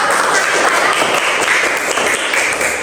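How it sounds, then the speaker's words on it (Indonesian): Children applaud in a classroom, a loud continuous patter of many small hands clapping close by, even in level for the whole stretch. "Oke, tepuk tangan dulu"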